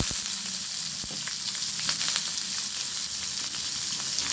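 Cut potatoes and radish fry in hot oil in a pan for a fenugreek greens dish. A steady, loud sizzle runs throughout, with a few light clicks as the vegetables are stirred.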